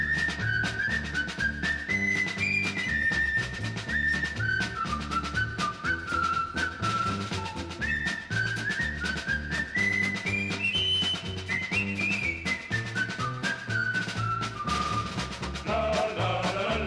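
Whistled melody of the Le Gendarme de Saint-Tropez theme, a bright, jaunty tune carried by clear whistling over a full band accompaniment, playing continuously and loud with no talking.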